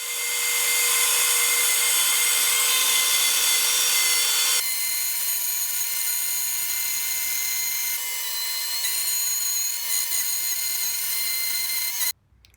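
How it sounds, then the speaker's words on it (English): A wood router fitted with a straight 3/4 inch bit cuts a groove in wood in several passes. It makes a loud, steady, high-pitched whine close by that shifts in tone partway through, then cuts off near the end. "I used a straight 3/4 inch router bit to cut this groove, and I did it in multiple passes."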